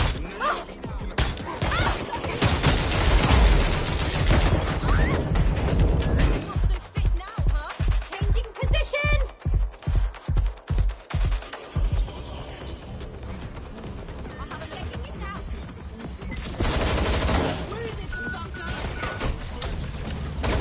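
Gunfire in Watch Dogs Legion, with a rapid run of evenly spaced automatic shots mixed with loud cracks, crashes and shattering, while voices shout at times.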